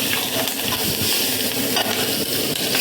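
Chillies, green chillies, cinnamon and curry leaves frying in hot oil in a home kitchen pan, a steady close sizzle with stirring scrapes running throughout.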